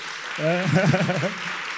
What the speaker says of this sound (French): ça s'applaudit s'il vous plaît